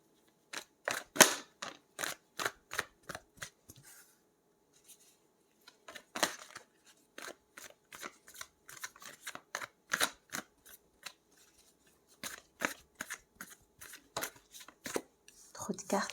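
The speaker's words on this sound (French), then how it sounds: "Trop de cartes sont tombées." Tarot cards being shuffled by hand, some slipping out and falling: quiet, crisp flicks and slaps in quick irregular bursts with short pauses, close by, and soft speech in places.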